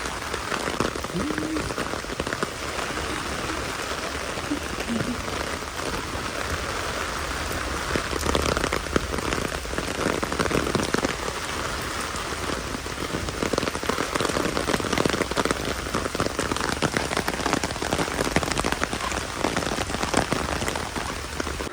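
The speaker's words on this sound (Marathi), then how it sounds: "पाऊस आला एकदम" Steady heavy rain hisses continuously on surfaces at Dadar flower market, loud and close throughout, with faint voices now and then underneath.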